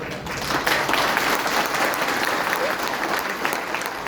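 An audience at a motivational speech breaks into loud, sustained applause, dense clapping filling the room evenly from start to finish.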